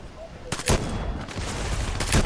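Submachine gun fire in a video game, two rapid bursts of close, loud shots about a second and a half apart, with talking players underneath.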